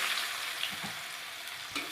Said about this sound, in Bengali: এখন কেটে রাখা পেঁয়াজ কুচিটা দিয়ে দেওয়া হলো